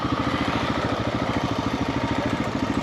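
Rumbling motorcycle engines of a convoy in Colombia running steadily and loud, a continuous throbbing drone with no pauses.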